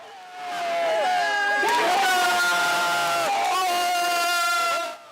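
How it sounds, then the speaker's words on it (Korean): Villagers at a traditional Korean yut board game burst into loud cheers and whoops, a crowd roar swelling quickly and holding for several seconds before cutting off. "윷놀이판에서는 상대 말을 잡아낸 마을 사람들이 환호성을 터뜨립니다."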